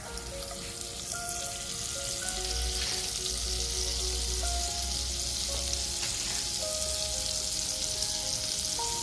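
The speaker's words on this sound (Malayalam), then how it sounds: "ഞാൻ ഈ പാനിലോട്ട് ഒരു ചെറിയ പീസ് ബട്ടർ ചേർക്കുന്നുണ്ട്." A small piece of butter melts in a hot pan on the way to a mango sauce for pancakes, sizzling and crackling steadily and close throughout, with faint clinks and tones in the background.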